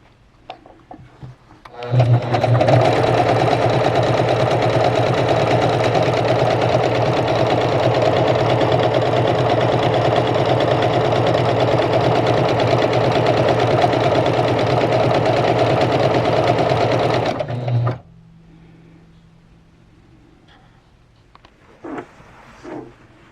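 A Juki HZL-K85 sewing machine runs decorative heirloom stitch 38 in one long, steady, loud motor whir with rapid needle chatter, lasting about sixteen seconds before it stops abruptly, followed by faint handling noises.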